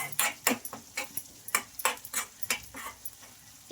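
A spoon stirs chili powder through a frying lemon pickle mixture in a pan, giving a run of close, distinct scrapes and clinks in an uneven rhythm, with no talk.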